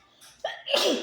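A single person's sneeze, building with a short breathy intake and then bursting out sharply, close and loud and heard alone without talk.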